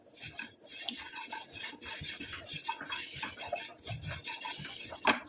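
An ingredient is stirred and fried in an ordinary pan until charred, giving a steady low scraping and rubbing with frequent small metallic taps and one sharper clink near the end, close and fairly quiet.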